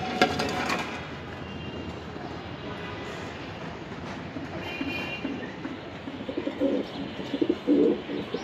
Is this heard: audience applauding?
no